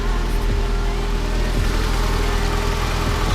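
A Mazda Miata engine idles steadily after a valve cover gasket replacement, a continuous low rumble with faint harmonic tones, close and even throughout with no talking.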